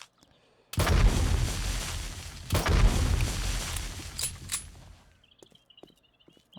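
A pistol fires in the video game 7 Days to Die: two heavy, booming shots a couple of seconds apart, each followed by a long rumbling tail before the sound fades to quiet.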